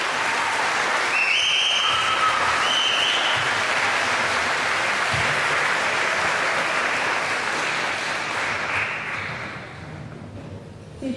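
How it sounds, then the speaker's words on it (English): Audience at an Access Training award celebration applauding loudly, with a few whistles and cheers on top, sustained for around nine seconds before gradually fading out. "you get a bigger cheer as well"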